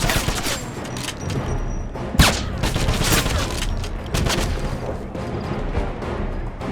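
Heavy gunfire in the video game Wolfenstein, a loud, continuous barrage of overlapping shots and booms with one sharp crack standing out, dense and unbroken throughout.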